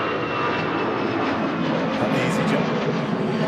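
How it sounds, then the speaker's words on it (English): An EasyJet airliner takes off from Manchester Airport, its engines a loud, steady broadband roar that holds for the whole stretch, with faint voices underneath. "EasyJet blasting off to Nice"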